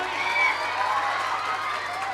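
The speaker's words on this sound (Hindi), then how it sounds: "जोरदार ताली।" An audience on a quiz game show stage breaks into loud applause and cheering after a correct answer, a dense, steady wash of clapping that fills the space throughout.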